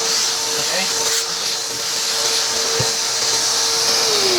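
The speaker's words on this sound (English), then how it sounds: "Vacuum all the particles of plastic from the drilling." A vacuum cleaner sucking up plastic particles left from drilling holes in a plastic tank, a loud, steady close-up roar with a constant whine throughout.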